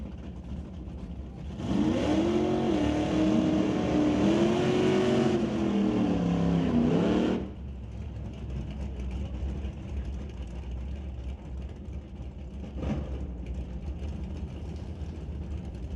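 A Camaro race car accelerating hard down a drag strip, a loud roaring engine sweeping up and dropping through several gear shifts before fading into a distant drone.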